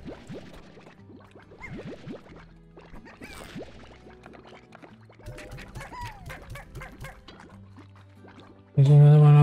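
Small cartoonish chickens in the ranching game Slime Rancher, soft clucks and chirps scattered across the scene, with a loud burst of sound at the end.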